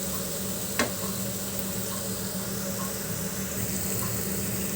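Salted semiya upma base frying in a pan: a steady close sizzle and hiss, with one brief sharp clink near the start and no talk.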